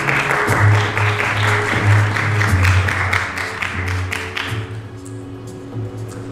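Audience applause at a product presentation welcoming the next presenter, a broad wash of clapping that fades out toward the end, with a low hum running underneath.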